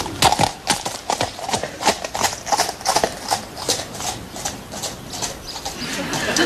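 Horse hooves clip-clop in a steady, even walking rhythm on a hard surface, close and distinct, with no talk over them.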